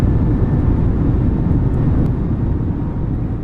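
A Spirit Airlines airliner, an A320 in Microsoft Flight Simulator, makes a rolling takeoff: a loud, steady, low engine roar dominates throughout with no talking.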